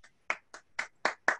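Six separate, fairly quiet hand claps land at an even, unhurried pace, each one distinct and closely miked, with no crowd and no talking.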